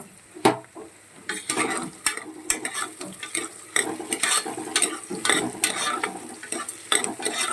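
Green chillies frying with onions in a pan for vegetable biryani, a steady hot sizzle broken by repeated scraping and stirring strokes of a spoon, close and fairly loud with no talking.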